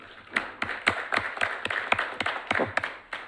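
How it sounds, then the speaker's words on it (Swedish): Scattered, fairly sparse clapping from a small audience after a talk by a flying club's flight chief, individual claps standing out in an uneven rhythm rather than a dense roar. "ytterligare en stor och varm applåd"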